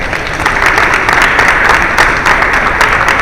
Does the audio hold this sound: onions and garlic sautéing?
no